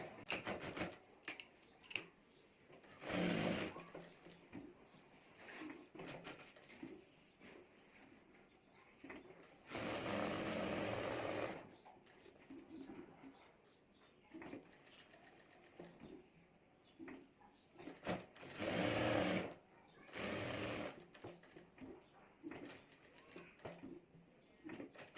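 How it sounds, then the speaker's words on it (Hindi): A sewing machine stitches a handbag pocket in short separate runs, loud bursts of rapid whirring divided by quieter pauses filled with handling noise and faint talk. "और अब यहाँ से हमें सिलाई कर देनी है।"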